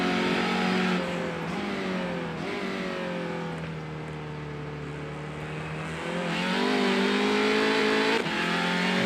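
Race car engine in the iRacing sim at Brands Hatch, heard from inside the car, a continuous loud harmonic drone that dips slightly mid-way then climbs again as the revs rise, with no talk over it.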